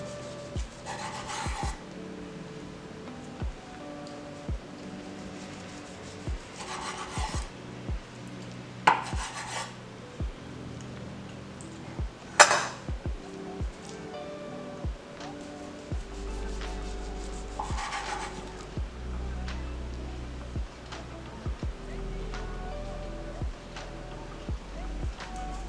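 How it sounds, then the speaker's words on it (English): A kitchen knife slices a sushi roll wrapped in seaweed into pieces about an inch wide, with a series of soft scraping cuts and light taps on the board, close and quiet, with no talking. "I'm cutting this about 1 inch"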